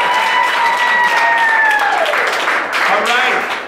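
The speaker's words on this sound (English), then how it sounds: "he'll do it if you give him a round of applause" An audience gives a round of applause, dense steady clapping with a sustained tone and voices over it, fading slightly toward the end.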